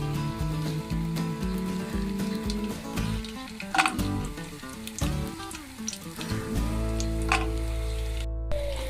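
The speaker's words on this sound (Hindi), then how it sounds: "इसको गरम करेंगे और इलायची को इसमें अच्छी से फ्राई कर लेंगे हलवे के लिए" Cardamom frying in hot ghee in a pot for semolina halwa, a continuous close sizzle with scattered crackles and pops, over a low steady hum in the background.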